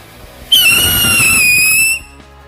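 A jumbo fountain firework goes off during New Year 2026 celebrations in Indonesia, giving a loud, steady, shrill hissing whistle that starts abruptly, holds for about a second and a half, then dies away.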